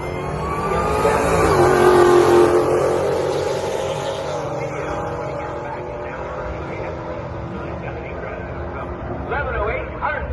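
A Dodge Challenger Hellcat Redeye on a drag strip run, its engine roar swelling loud early then holding a strained drone as it pulls away, with a voice talking over the car noise.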